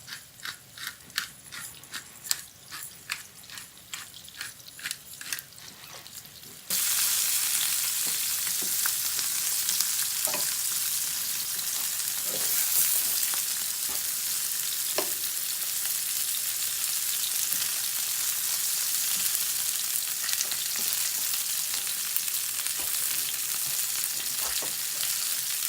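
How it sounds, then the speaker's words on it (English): Onions sizzle and crackle steadily in a hot frying pan, a soft ticking at first, then a loud, continuous frying hiss with occasional pops. "Now they're starting to sizzle."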